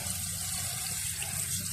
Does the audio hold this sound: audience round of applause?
no